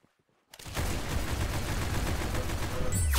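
Dense, continuous automatic gunfire erupts abruptly after a brief near-silence in an arena shooter video game, loud and sustained to the end.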